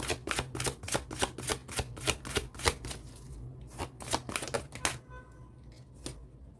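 Tarot cards shuffled by hand in a quick run of crisp riffling bursts, close and steady, slowing and thinning toward the end with no talk.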